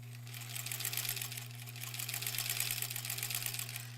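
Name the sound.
sewing machine stitching quilt border pieces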